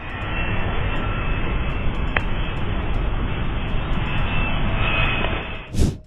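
Aircraft engine noise from planes flying overhead, a broad steady roar that holds loud and constant before a brief surge near the end.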